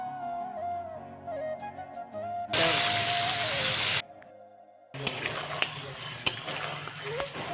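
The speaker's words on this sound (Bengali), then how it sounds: "এটা চাল কুমড়ো ভাজা হচ্ছে।" Ash gourd pieces fry in a wok, with a close, bright sizzle and stirring scrapes. Chopped passages start with tonal voice-like sounds before the frying, and a few sharp knocks punctuate the later stretch.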